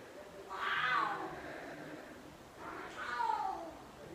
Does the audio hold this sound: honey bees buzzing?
no